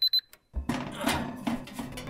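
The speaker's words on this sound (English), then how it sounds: "and set off the smoke alarms" Two quick, shrill electronic beeps from a smoke alarm set off by burnt toast sound at the start, then give way to a burst of noisy clatter and rumbling.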